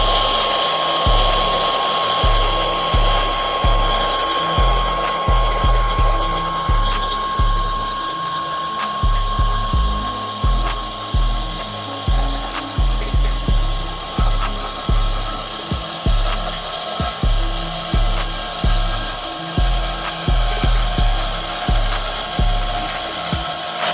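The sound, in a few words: Milwaukee Fuel deep cut bandsaw cutting with old blade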